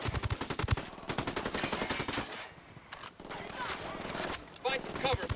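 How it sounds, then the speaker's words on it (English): Gunfire in a Ghost Recon Wildlands cutscene rattles in rapid automatic bursts and scattered shots, loud and dense across most of the stretch, with people talking over and between the shooting. "A bunch of dudes shooting off guns tends to have that effect."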